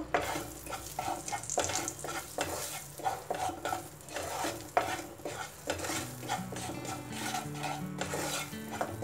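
Turmeric and coriander powder with a little cumin powder frying over low heat for matar paneer, a soft sizzle under repeated scraping strokes of a spoon stirring the pan.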